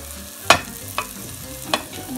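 Butter and garlic sizzle in a frying pan, a soft steady hiss broken by three sharp scrapes or taps of a utensil against the pan.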